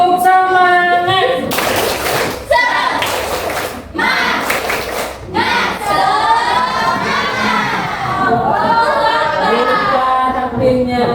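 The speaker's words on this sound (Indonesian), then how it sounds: "Tepuk semangat." An indoor audience gives several bursts of rhythmic hand clapping at a religious gathering, broken up by a leader's loud voice and group call-and-response shouts between the claps.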